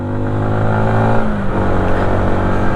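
A Yamaha MT-125 motorcycle accelerates hard on an expressway, its engine note droning loud and close with steady harmonic pitch shifts as it pulls toward top speed, amid continuous wind and road noise.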